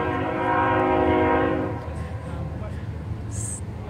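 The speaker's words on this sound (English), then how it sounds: "Sorry about the train." A train horn sounds loudly and steadily for about a second and a half, then cuts off, leaving a low rumble of the passing train that carries on underneath.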